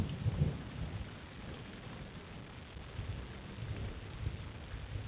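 Heavy rain pours steadily in Kutch during a monsoon storm, a dense continuous wash with low thundery rumbles swelling at the start and again later, with no voices.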